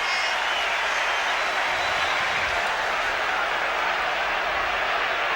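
Spectators around the ground at the 1991 Dublin v Meath Gaelic football match keep up a warm, steady round of applause, a distant, even roar of clapping and crowd noise with faint commentary underneath.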